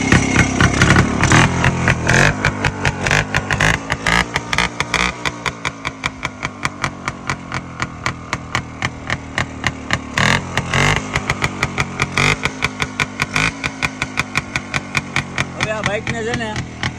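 A Rajdoot motorcycle engine runs loud and close, chugging with a steady pulsing beat and surging revs, while short rhythmic bursts cut through it near the end.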